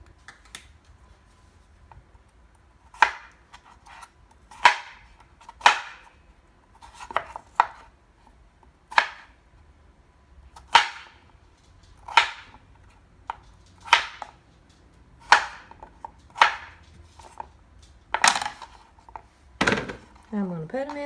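A knife chops peeled, washed potatoes on a cutting board for homemade vegetable beef soup: a dozen or so sharp, close thunks at an uneven, unhurried pace, with a brief voice near the end.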